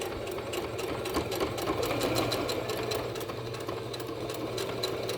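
A sewing machine back stitches a kids' fabric mask, a close, steady motor hum with rapid, even needle pulses running continuously for several seconds without voices.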